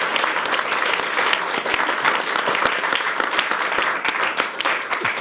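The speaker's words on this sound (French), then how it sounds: "je vous demande d'applaudir" A studio audience on a French television talk show applauds a guest, loud sustained clapping from many hands with sharp individual claps standing out across the whole stretch.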